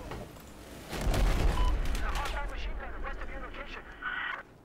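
Dense bursts of gunfire and booming explosions from the video game Battlefield 4 pile up in a busy, loud battle mix that thins out toward the end.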